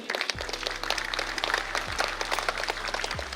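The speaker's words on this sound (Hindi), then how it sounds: "जोरदार तालियां, जोरदार तालियां।" Dense, steady applause fills a hall at Gyan Bhawan, Patna, during a National Mathematics Day award ceremony as a Class 8 student who placed second in the state is honoured. A continuous crowd roar runs over a low electrical hum.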